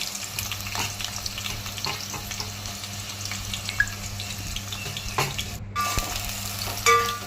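Green chilies and onion pieces fry in hot oil with a continuous close sizzle and hiss, broken by scraping stirs and a few utensil clinks, with no talking.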